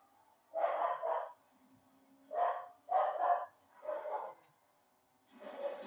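A dog barks several times in short bursts, some doubled, spaced by pauses, fairly close but not very loud, during a live Fortnite stream.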